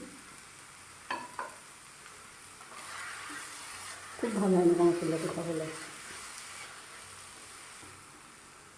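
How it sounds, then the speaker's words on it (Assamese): Spice masala frying in a pan over a low flame, a soft sizzle under a quiet voice, with a louder burst of stirring and scraping midway. "5 মিনিট ভাজিব লাগিব কম জুইত।"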